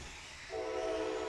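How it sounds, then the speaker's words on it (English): A train horn sounds from a passing locomotive near a race, a steady sustained chord that starts abruptly halfway through and holds loud over background noise. "Train engineer's copying me."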